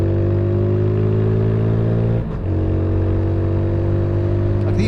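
A 2021 Mutt Mongrel motorcycle pulls hard with a loud, close, steady engine drone, briefly dips during a quick clutchless gear change midway, then resumes at a lower pitch and builds again.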